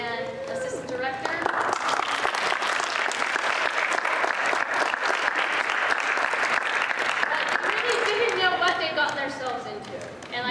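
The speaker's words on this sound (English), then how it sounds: "I'd like you to give them all another round of applause" A theatre audience gives the cast of a stage production of The Importance of Being Earnest a sustained round of applause, thick continuous clapping with crowd chatter and a few raised voices at the start and end.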